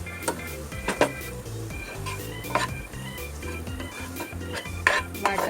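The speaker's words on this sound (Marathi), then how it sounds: "आता टाकते मी तो वाटप जे मी बनवलं होतं खोबऱ्याचं ते टाकते. हे चांगलं परतून घ्यायचं आपल्याला याच्यात." Ground coconut masala paste being stir-fried in a pan for stuffed capsicum, with a steady soft sizzle and repeated scraping clinks of a spoon against the metal pan, close and moderately quiet, with no talking.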